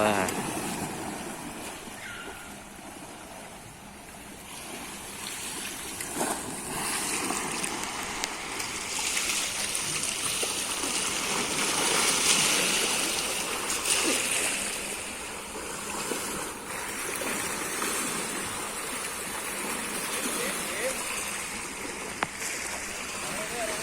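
Water moving and splashing in a flowing stream as people bathe, a steady rushing wash with scattered splashes, with voices talking over it throughout.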